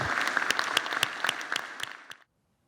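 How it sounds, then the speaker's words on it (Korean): A small crowd at a committee gathering claps in a brief burst of steady applause that stops abruptly. "위원장님과 위원님들께 박수 한번"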